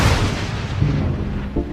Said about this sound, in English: This is the hail cannon to lessen the chance of hail damaging our crops.